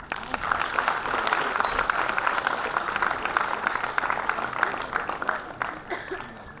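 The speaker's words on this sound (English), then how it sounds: "I'm going to ask you to give him a warm applause." At a children's forum event, the audience gives warm applause, close, busy clapping for several seconds mixed with murmured voices and a little laughter before it fades.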